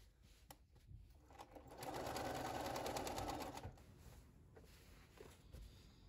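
A sewing machine stitches through a fabric quilt sandwich, a steady rapid whirring run of about two seconds that swells and then stops, with quieter handling sounds around it.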